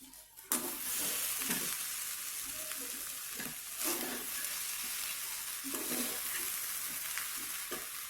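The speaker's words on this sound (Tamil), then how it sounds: "இப்போ இதை நம்ம கிளறிடலாம்." Cooked rice tossed in a hot pan hisses steadily at low volume, with soft, irregular scraping and stirring strokes.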